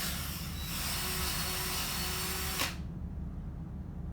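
A power drill whirs steadily at high speed, then cuts off abruptly with a sharp click, leaving a faint hum in a quiet room.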